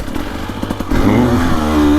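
A 2025 KTM 300XCW Champion Edition two-stroke dirt bike ridden through the woods, its engine close and loud, putting along then climbing in pitch as it accelerates over rough ground with brief clatter.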